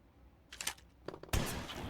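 A single loud, sharp shotgun blast fired at a crow in the video game Granny 3, preceded by softer clicks and rustling handling noises.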